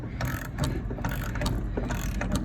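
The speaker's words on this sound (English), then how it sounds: "And I'm gonna start tightening it." A hand ratchet clicks in repeated bursts while tightening a caging bolt on a brake can, the pawl chatter close and steady across the whole stretch with short pauses between strokes.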